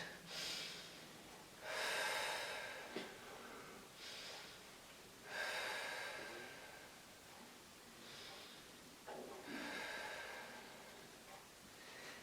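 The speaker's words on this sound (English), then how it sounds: "deep breath in and out" Slow, deep breathing during a Pilates session, several long, airy inhales and exhales in a steady rhythm, close to the microphone and fairly quiet, with short pauses between breaths.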